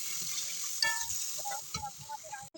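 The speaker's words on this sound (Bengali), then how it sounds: "এবার মশলাটাকে ভালো করে কষিয়ে নেবো যতক্ষণ না মশলা থেকে তেল ছাড়ছে" Spice masala with salt and turmeric sautéing in oil in a pan, a steady soft sizzle with scattered stirring scrapes and small pops, fairly quiet and close.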